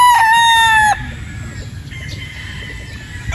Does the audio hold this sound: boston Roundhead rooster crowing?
yes